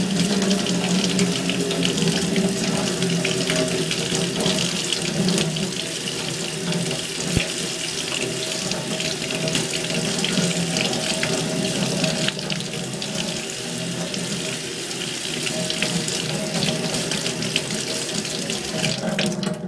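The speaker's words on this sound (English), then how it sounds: "you just want to turn the water onto cold and rinse them thoroughly" Cold water runs steadily from a kitchen sink tap while vegetables are rinsed for a pet parakeet, a continuous close splashing hiss lasting the whole stretch with no talking.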